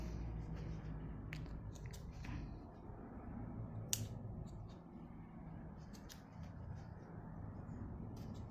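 Scissors snip through tracksuit pant fabric at the elasticated hem, quiet crisp clicks spaced irregularly over a low background rumble, close and faint.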